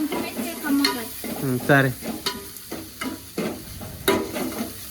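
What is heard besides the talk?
ginger garlic paste frying in a pan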